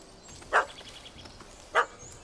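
A dog barking at a cat up a tree in The Witcher 3: Hearts of Stone, two short sharp barks about a second apart, moderately close, over quiet ambient background.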